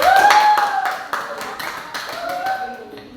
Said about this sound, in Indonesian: Kita kasih tepuk tangan semuanya.